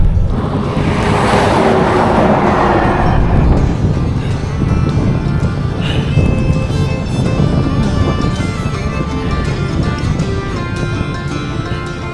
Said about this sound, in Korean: 지금 다시 서풍이 불고 있습니다.